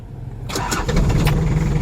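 A Toyota Crown RS-41 from 1966, refitted with a 2L engine, cranks briefly and fires up, then settles into a loud, steady close idle with a low rumble.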